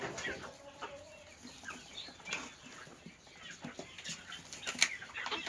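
Breeding hens cluck softly in scattered bursts, with a brief flap of wings, faint and fairly distant.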